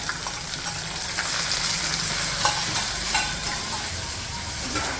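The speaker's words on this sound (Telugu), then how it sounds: "రొయ్యలు చూడండి ఫ్రై చేసుకొని తీసుకోవాలన్నమాట" Prawns fry in a pan with a steady, fairly loud sizzle and hiss, broken now and then by stirring scrapes and crackles, with no talking throughout.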